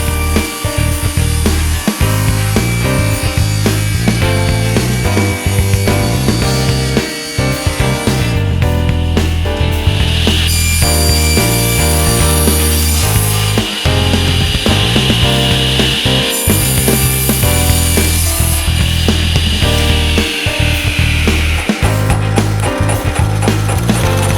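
A saw cuts a wooden board into a 4 1/4 inch by 1.5 foot piece for a toolbox rail, with loud, rhythmic rasping strokes and only brief breaks, no talking.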